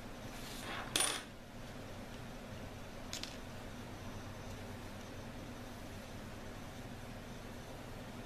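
A coin is set down with a short, bright metallic clink nearby, followed by a fainter second tap a couple of seconds later against a quiet, steady room hum.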